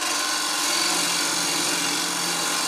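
A 3/8 inch bar stock turning tool nibbles into a bowl on a wood lathe, making small easing cuts while reverse chucking: a steady, close high-pitched whirring and scraping hiss that holds evenly throughout.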